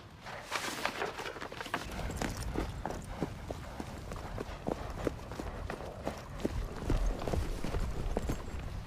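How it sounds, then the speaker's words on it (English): Horse hooves clip-clop at a steady, even trot on hard ground in the 2009 film of Wuthering Heights, the regular beats continuing throughout with no talking. "That's why I told you to bring Kathy's horse"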